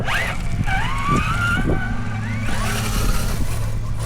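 An RC4WD Trail Finder 2 Xtra Cab flatbed RC truck runs in first gear at a park, its small electric motor whining steadily and rising and falling in pitch close by.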